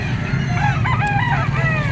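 A yellow-legged bulik banderado stag crows once, long and wavering, over a steady low hum with faint clucking at a Padre Garcia, Batangas poultry market.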